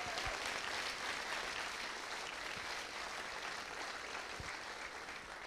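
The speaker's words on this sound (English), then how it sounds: "the applause is terrific" Distant, sustained applause from a large conference audience, an even wash of many hands clapping at a faint, steady level throughout.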